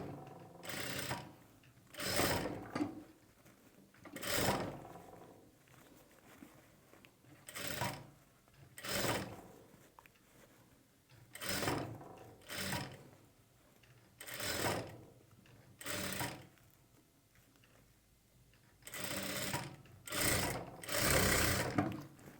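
Sewing machine stitching a single-katori blouse, running in a series of short whirring bursts separated by brief pauses, close and clear with no talk.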